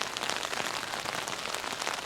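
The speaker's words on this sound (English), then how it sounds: "I have to admit that listening to the rain is pretty relaxing" Steady rain falls through a mountain forest, a dense continuous patter of drops on leaves and surfaces, close and even throughout with no voices.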